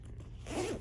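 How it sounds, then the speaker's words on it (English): A zipper on a gear bag closes in one quick, fairly close pull, a short rasp after a moment of soft handling noise. "Zip it up."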